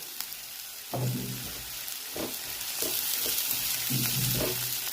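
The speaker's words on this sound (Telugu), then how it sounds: "వెల్లుల్లిపాయలు, ఉల్లిపాయలు ఇవి వేసుకొని వేయించుకోవాలి" Sliced garlic and onions sizzle and fry in ghee in a pan, with a steady crackle and several louder bursts as the pan is stirred; no voices.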